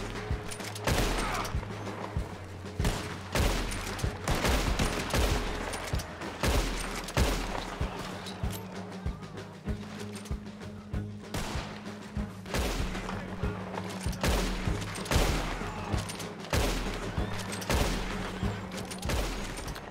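Sustained gunfire in the Red Dead Online video game, a continuous barrage of rapid shots and volleys across the whole stretch, loud and dense with brief gaps between bursts.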